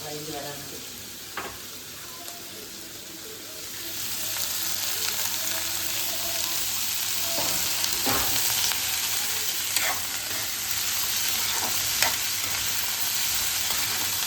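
Squid and onions sizzle in a pan, the frying growing louder and steadier after a few seconds, with occasional stirring clicks and scrapes.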